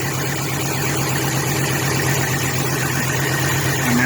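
A 1997 Ford Mustang GT idles steadily after an adjustable fuel pressure regulator was installed and set to 40 psi, giving an even, continuous engine drone with no talk over it.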